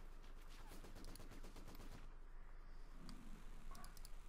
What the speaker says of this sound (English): Kubik is running up in the MD-42 there, quickly suppressed